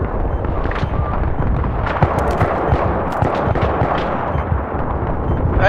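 Dense, continuous gunfire and explosions from the video game Battlefield 3, a loud sustained barrage of overlapping shots and blasts with no talking.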